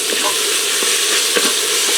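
Chopped garlic sizzling in a pan of frying sausage for a chicken bog, a steady close crackle with a few brief stirring scrapes and no talking.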